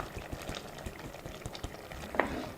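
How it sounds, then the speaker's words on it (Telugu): Paneer pieces stirred into a cashew and milk gravy in a pan: soft, close scraping and gentle bubbling at an uneven rhythm, with one sharper utensil clink near the end. "ఒకసారి బాగా కలుపుకుందాం"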